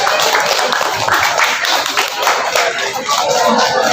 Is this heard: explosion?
no